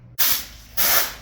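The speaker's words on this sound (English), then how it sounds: "Just blowing her off, blow the dust off" Compressed air blasts dust off an '02 Ford F250 truck before painting, two loud hissing bursts of about half a second each with a short gap between them, close by.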